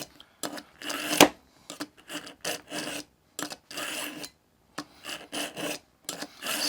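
A knife blade drawn repeatedly through an AccuSharp handheld sharpener, giving close, dry rasping strokes in an uneven rhythm of about a dozen pulls, each a short gritty scrape separated by brief pauses.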